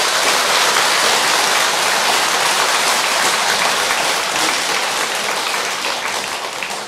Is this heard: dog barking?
no